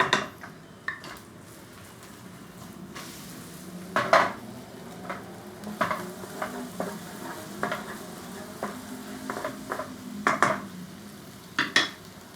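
Eggs stirred and fried in a hot pan for fluffy scrambled eggs in a Chinese home kitchen: a soft steady sizzle broken by repeated scraping and clinking of a utensil against the pan, close and fairly quiet.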